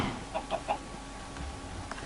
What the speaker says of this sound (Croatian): Izašla ti kokoška. Ode ti napolje kokoška.